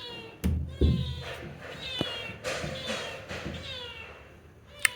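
A cat meows several times at home, its short rising mews repeating across a few seconds, fairly close, with soft household voices faintly underneath.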